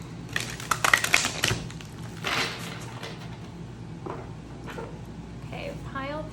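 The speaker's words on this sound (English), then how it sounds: "one more shuffle." Tarot cards being shuffled during a pick-a-pile reading: a quick burst of crisp, riffling clicks and flutters early on, then a softer slide, with faint scattered handling noises and a bit of voice afterward.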